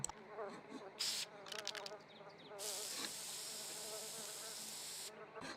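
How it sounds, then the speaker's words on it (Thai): Insects buzzing in The Sims video game, a steady faint drone with sudden louder bursts of buzzing noise that come and go, no talk. "เสียงแมลงก็ยังอยู่นะคะนะ"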